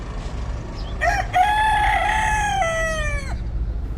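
A rooster gives a single loud, close cock-a-doodle-doo lasting about two seconds over a low background hum, with no talking.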